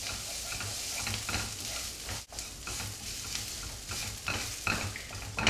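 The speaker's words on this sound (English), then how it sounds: "poppy seed in mustard oil tastes really good. I'll get it fried a little bit before I add the potatoes." Poppy seeds fry in hot mustard oil in a pan for Odia aloo posta, a steady close crackling sizzle broken by scraping stir strokes, with one brief dip near the middle and no talking.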